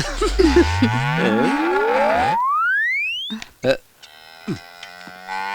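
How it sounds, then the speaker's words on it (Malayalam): A loud, drawn-out moo from a young calf, followed by a rising slide-whistle tone and a few short thumps. "ഒരു പശുക്കിടാത്തിയുടെ വികാരഭരിതമായ കരച്ചിൽ പുറത്തു വന്നിരിക്കുക"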